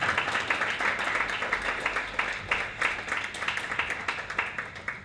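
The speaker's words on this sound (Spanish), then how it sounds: "Un aplauso a la compañera, a los compañeros que están contando." A crowd applauds the speakers at a commemoration of the Avellaneda massacre, with dense, steady clapping that holds for several seconds at moderate loudness and no talk over it.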